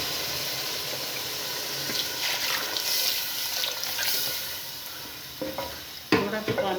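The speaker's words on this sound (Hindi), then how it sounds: "अब इसमें जो बेसन बनाकर रखा है वो डालते हैं।" Besan batter poured into a cooking masala for Punjabi kadhi, with a steady wet sizzle and stirring throughout, then a sharper splash and scraping near the end.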